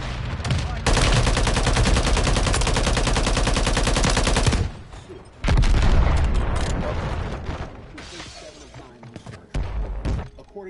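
Heavy automatic gunfire rattles in a Call of Duty Warzone solo ranked match, a long unbroken burst followed by more shots and booming impacts, loud and close, then trailing off into scattered bursts.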